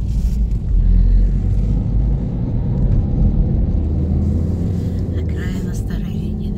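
Weekend road traffic on the edge of Old Riga, heard from inside a moving car: a steady low rumble of engine and tyres with someone talking over it.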